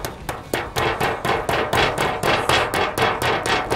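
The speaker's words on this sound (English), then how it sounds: "So you can either use a rubber hammer like I have or a meat hammer like you have." A rubber hammer taps a raw chicken breast flat, about fifteen steady, evenly spaced dull thuds in quick succession, close and moderately loud, with no talking.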